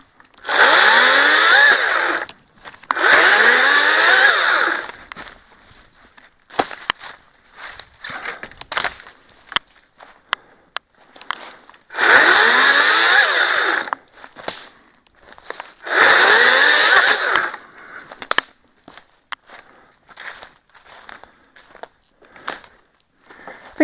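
A battery-powered chainsaw cuts wood out on a woodland trail, loud close bursts of whining revving separated by quiet gaps filled with scattered clicks, rustling and footsteps.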